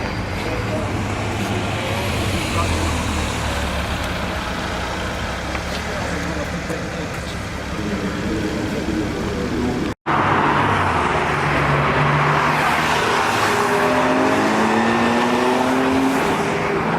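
A Porsche 922, a GTS, pulls away amid busy street traffic, its engine rumble swelling and rising in pitch as it accelerates after a brief cut, with other cars and crowd noise around.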